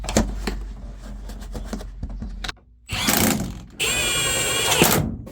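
Power drill boring a new hole through car floor carpet in a project 240sx, with bursts of whirring and mechanical clunks, close and loud, no talk.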